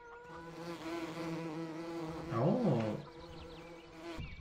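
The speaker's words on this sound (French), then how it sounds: "Il a mis des sons qui sont bien. Des sons de guêpes et tout, c'est bien." Wasps in the Farming Simulator 17 video game drone in a continuous buzzing hum that swells louder midway as one passes close, with a short voiced exclamation.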